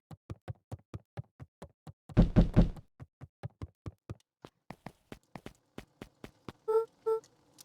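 Rapid knocking on a door in the video game Beacon Pines: a long series of sharp, evenly spaced raps, with a louder, denser burst of knocks partway through and a few short tones near the end.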